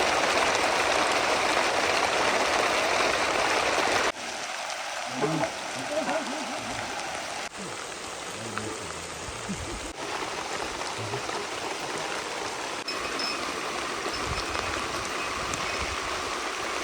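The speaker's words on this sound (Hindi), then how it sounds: "बारिश का मजा लो फिर।" Rain falls steadily on a mountain meadow (bugyal) where shepherds graze their flocks, a continuous close hiss that thins and shifts partway through, with faint voices now and then.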